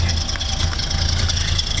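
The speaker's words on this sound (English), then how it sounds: "let me show you what the exhaust on this big mean bad boy sounds like" A 1979 Chevrolet C10 pickup's exhaust idles with a steady, deep low rumble, constant and fairly close, with no voices.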